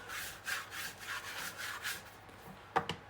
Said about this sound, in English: I use a scraper like this, and I just kind of like walk it around like this to tuck the underneath